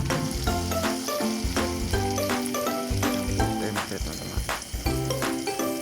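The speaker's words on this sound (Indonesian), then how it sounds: "Lalu langsung lanjut menggoreng belut yang kedua." Busy, close sizzling and popping of eel frying in hot oil, with intermittent clinks and stirring sounds over the crackle.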